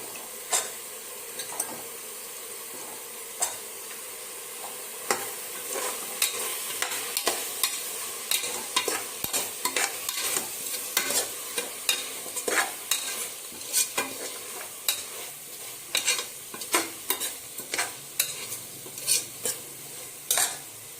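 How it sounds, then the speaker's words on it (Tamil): Cut potato and carrot sauté in a pan for a vegetable biryani: a steady sizzle of frying runs under repeated sharp scrapes and clicks of a spoon stirring against the pan. "இப்போ நம்ம கட் பண்ணி வச்ச பொட்டேட்டோ அண்ட் கேரட் இதெல்லாமே வந்துட்டு நம்ம ஆட் பண்ணி நம்ம என்ன பண்ணிக்கலாம், நல்லா வதக்கி விட்டுக்கணும்"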